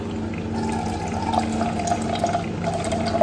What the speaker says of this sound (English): So we'll let the water flow.